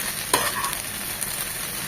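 Okra frying in mustard oil in a pan, a steady close sizzle running throughout with a few brief stirring clinks.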